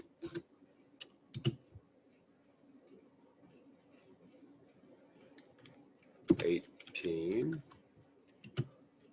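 Computer mouse clicks while working in home design software, a few sharp isolated ticks spread across a quiet stretch, with a short burst of faint background noise partway through.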